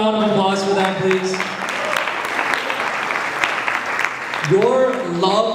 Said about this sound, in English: We have another round of applause for that